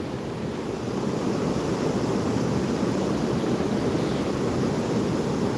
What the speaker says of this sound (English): How nice is hearing that water go over.